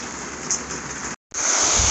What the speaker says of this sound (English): it's a beautiful freaking day. Raining sideways.